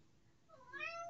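A single faint, brief cat meow rising at the end of a short stretch of quiet room noise, with no talk over it.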